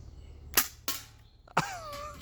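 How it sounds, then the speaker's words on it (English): BB pistol shooting .30 gram BBs at cans: three sharp, close snapping shots spaced apart, with a metallic ring after the last hit. "12 more .30 gram BBs loaded up. I'll just start with that tall one again."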